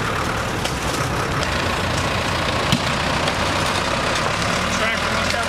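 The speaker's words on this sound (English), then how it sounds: "Tractor must have a little more power than ours." A tractor engine runs steadily at a low idle on a farm, a continuous low rumble with no clear changes in pitch across the stretch.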